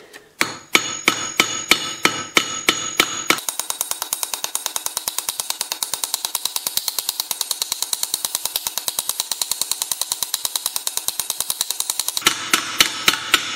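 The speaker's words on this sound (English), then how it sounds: "I'm going to take a ball peen hammer, and I'm going to peen the rivet" Rapid metallic ball peen hammer blows peening a rivet during chainsaw maintenance, a few spaced strikes then a long steady run of quick, ringing taps, ending with slower hits.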